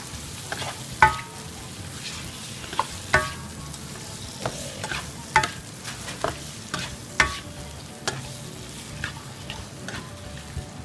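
Shrimp with green and red chilies stir-fried in a pan, with a steady sizzle under repeated sharp scrapes and clacks of a utensil against the pan at an irregular pace, close and fairly loud throughout.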